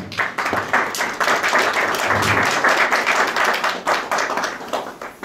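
An audience at an ISKCON Scarborough Siva Ratri celebration applauds, many hands clapping close and loud in an uneven, bursty rhythm that keeps going throughout.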